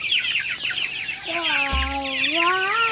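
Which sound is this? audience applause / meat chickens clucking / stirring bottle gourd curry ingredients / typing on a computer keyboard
meat chickens clucking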